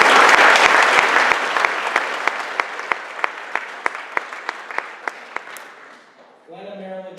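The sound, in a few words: audience applause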